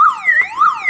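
A car alarm siren wails loudly and close, sweeping up and down in a fast warbling pitch cycle with no other sound.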